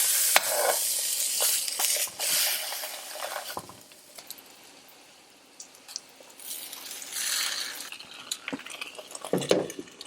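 A plant-based protein patty sizzling and toasting in a dry pan, with a steady close hiss, a few sharp clinks and scrapes, and the frying swelling and fading.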